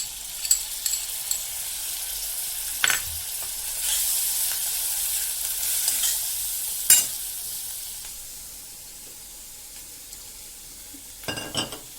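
Soaked spice paste sizzling in a pan for spicy crab curry, a hissing fry with occasional loud clinks and scrapes of a utensil against the pan, close, no voices.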